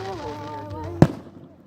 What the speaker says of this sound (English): They're called fireworks because they're like, they have gunpowder in them.